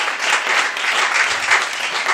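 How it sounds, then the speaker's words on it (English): A quiz show audience gives a round of applause, steady dense clapping for about two seconds with no talk over it. "A round of applause for yourself."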